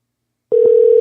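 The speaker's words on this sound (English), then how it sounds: "give Mr. Platfoot a call" Telephone line tone starting abruptly after half a second of silence as a phone call is placed, a loud steady electronic hum preceded by a couple of short clicks.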